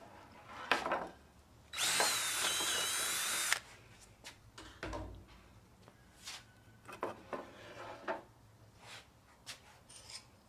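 A power drill tightens a fastener on a stand for a Blue Diamond screen printer and silver flash dryer, one loud whirring burst of about two seconds, followed by quieter clanks and handling knocks.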